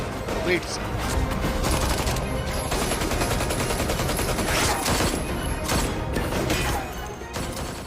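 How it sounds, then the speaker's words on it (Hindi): Rapid, continuous gunfire crackles densely for several seconds during a police encounter, loud and close, with shots overlapping in a sustained barrage. "लगातार गोलियां चल रही थी"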